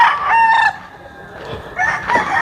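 Fighting roosters crow up close, two loud drawn-out cock-a-doodle-doo calls separated by a short pause.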